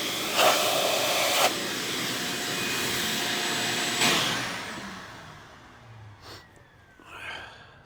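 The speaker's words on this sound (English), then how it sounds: "And then I gotta just turn on a vacuum every time though." A vacuum cleaner whines loudly and steadily in a workshop during an N14 Cummins oil pump job, then winds down and fades after a few seconds, leaving faint knocks.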